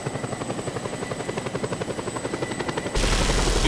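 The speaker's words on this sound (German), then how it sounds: "Ein russischer Hubschrauber." A Russian helicopter in the video game Just Cause 2: the rotor thumps in a steady, rapid rhythm with a high engine whine, close and loud, growing louder and harsher near the end.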